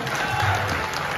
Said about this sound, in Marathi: त्याच्यासाठी टाळ्या कोण वाजवतो?